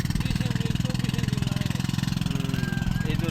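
A speedboat fitted with a large boat engine thrums with a fast, steady pulsing chug at close range, with a voice speaking over it.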